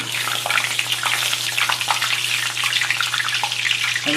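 Meatballs frying and being basted in a pan of hot oil, a continuous bright sizzle with scattered sharp pops and crackles, close and fairly loud, with a low steady hum beneath.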